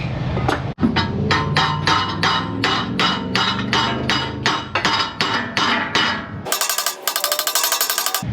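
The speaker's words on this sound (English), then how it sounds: "When you hammer it, hammer it on the sides" Loud, steady hammer blows ring out on a metal exhaust clamp in a rapid regular rhythm, followed by a quicker, sharper series of clanging strikes.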